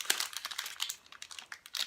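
A Clif Bar wrapper is unwrapped, giving close, crisp crinkling and rustling in quick irregular bursts with no talk.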